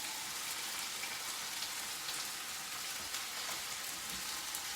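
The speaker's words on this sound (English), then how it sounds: "Keeping that heat nice and hot. Keep it sizzling." Mushrooms sizzle in a hot stir-fry pan, a steady bright hiss of frying moisture that crackles evenly throughout, close and fairly quiet with no voices.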